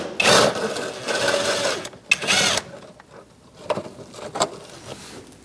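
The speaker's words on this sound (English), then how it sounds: "You're going to use a 10mm socket and remove this bolt." A 10mm socket turns a bolt out of the underside of a 2000-2006 Mini Cooper 1.6L near the bumper cover, giving close ratcheting bursts, two loud runs followed by fainter clicks, with no talk.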